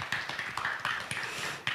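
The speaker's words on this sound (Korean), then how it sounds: "다시 한번 말씀해 주신 장서구 대표님께 감사의 박수를 부탁드립니다" Applause from an audience at a community forum in Sejong, heard as a run of quick, irregular claps from a fairly small gathering that holds steady for under two seconds with no talk over it.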